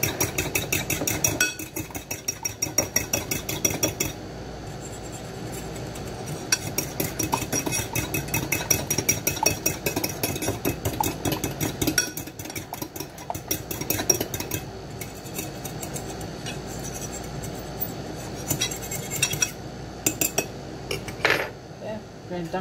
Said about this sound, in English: we're going to mix that all up